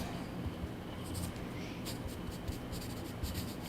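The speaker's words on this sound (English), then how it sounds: "here I'm gonna write it down" A pen scratches out words in a sketching session, with faint bursts of strokes over a hissy background and no clear talk.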